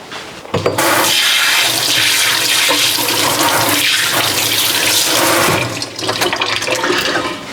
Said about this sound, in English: So I'm gonna wash my hands right now.